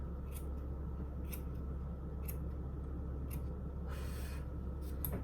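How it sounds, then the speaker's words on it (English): Grooming scissors snip through a Yorkie's fur in a trim, sharp close snips coming every second or so, with a longer run of cutting near the end. "I'm gonna go ahead and trim this too."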